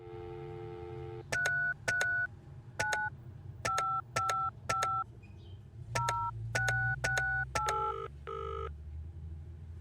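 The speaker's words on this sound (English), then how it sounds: "Let me call John again." A telephone dials a number, a series of short two-tone keypad beeps in a steady irregular rhythm, followed by a brief ringing tone at the end, clear and close without speech.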